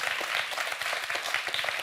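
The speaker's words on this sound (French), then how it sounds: "Je crois qu'on peut applaudir Arthur qui a fait un très beau parcours" Studio audience on a televised French quiz show applauds steadily, a dense, even burst of many hands clapping close and loud with no voices over it.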